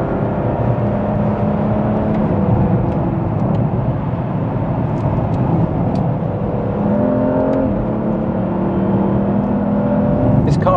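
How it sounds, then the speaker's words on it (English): Aston Martin Rapide S driven hard on a winding road, its engine a steady loud roar that rises and falls through gear changes for the whole stretch, with no talking. "We just take this Rapide on a spirited drive."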